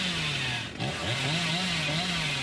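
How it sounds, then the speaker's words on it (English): Killer's chainsaw in Dead by Daylight revving, a loud continuous buzzing motor whine that dips briefly then climbs and wavers in pitch, close and unbroken. "And immediately gonna chainsaw down towards Shack."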